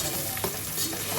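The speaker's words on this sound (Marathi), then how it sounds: "तर आता ही अद्रक लसूण पेस्ट आपली इथे टाकायची आहे" Ginger garlic paste frying in a pan while a Konkani crab dish is cooked, a brief, steady, moderately loud sizzle with faint stirring.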